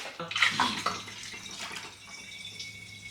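Liquid pours through a funnel into another container, a steady splashing trickle close by with a brighter gush near the start that settles into a quieter flow, no talking over it.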